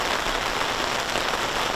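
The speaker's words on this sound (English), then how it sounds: "It do be raining." Rain falling steadily outdoors, a dense, even hiss of drops on surfaces that stays loud and unbroken throughout, with no voices.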